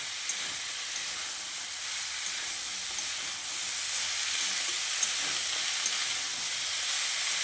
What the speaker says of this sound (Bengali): লাউটা দিয়ে মশলার সঙ্গে খুব ভালো করে কষিয়ে নিতে হবে।